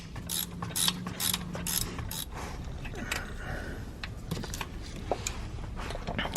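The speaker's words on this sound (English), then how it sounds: "we'll go ahead and tighten this one, bottom, number 14 bolt" A ratchet tightens the bottom 14 mm starter bolt on a Kia Soul, giving quick bursts of clicking pawl strokes with short pauses and faint metallic creaks, close and fairly quiet.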